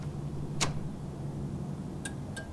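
Left turn signal on a Dodge car ticking softly, a few sparse sharp clicks spaced irregularly over a steady low hum.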